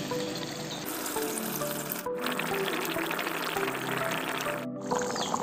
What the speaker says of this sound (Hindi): अभी पानी थोड़ा डाल देंगे।